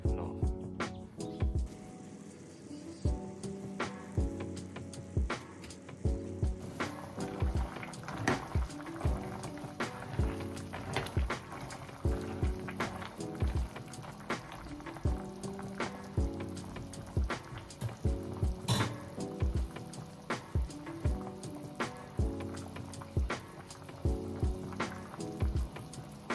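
A pot of particle bait mix boils steadily for a long stretch, with continuous bubbling and popping at moderate level and quieter background sound beneath.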